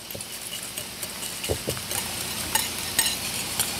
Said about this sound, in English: We're going to whisk them all together.